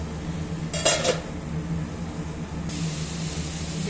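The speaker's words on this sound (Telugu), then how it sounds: "మూత పెట్టి మగ్గనిద్దాము" A metal lid is set on a pot of frying ridge gourd curry, giving a brief clattering clink near the start, then a steady low hiss and hum of cooking.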